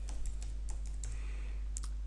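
Typing on a computer keyboard to enter login details into a web portal, a quiet run of irregular key clicks close by with no talk.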